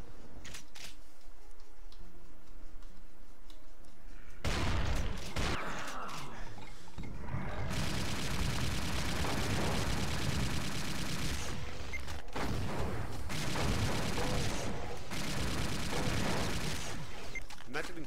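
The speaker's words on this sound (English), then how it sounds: "There's a chain gunner and 2 sergeants in there." A chaingunner and two sergeants open fire in a Doom-style shooter level, a dense continuous rattle of rapid gunshots and blasts that runs steadily for several seconds, loud and unbroken, with mechanical clanks.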